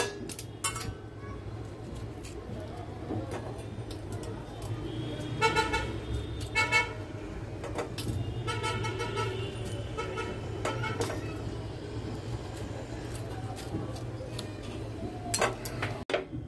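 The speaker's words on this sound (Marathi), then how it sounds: "त्याच्यासाठी मी आता कुकरला लावते आणि त्याला 3 शिट्ट्या काढून घेते" A pressure cooker boiling tomatoes lets out two long whistling toots, separated by a quieter stretch with scattered clinks of utensils and a low background hum.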